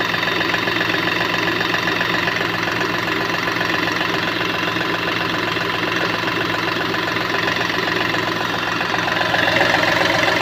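Volkswagen/Skoda 1.2 TDI diesel engine idling roughly with a pickup fault, a steady close knocking clatter with constant vibration and no pauses.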